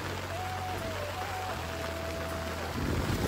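River in Uttarakhand swollen by monsoon rain, rushing water as a constant dense hiss with a faint tonal whine, steady throughout and louder at the end.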